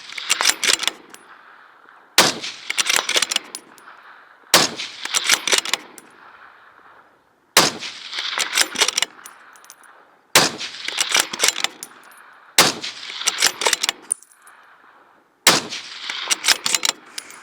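A Remington Model 700 .308 bolt-action rifle in a chassis fires seven loud, sharp shots spaced a few seconds apart, each followed by a long, echoing rolling decay outdoors.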